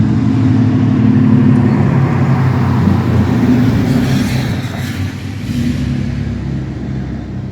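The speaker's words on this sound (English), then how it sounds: "It was a big truck, if you couldn't tell." A big truck rumbles loudly past, a heavy low engine roar that swells and then slowly fades as it moves away, with no talk over it.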